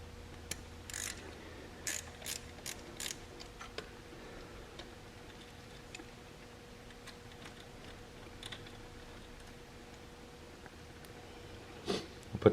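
Ratchet wrench loosening 10 mm bolts holding the fuel solenoid on an Exmark zero-turn mower, heard as faint, scattered quick clicks and ticks in a quiet workspace.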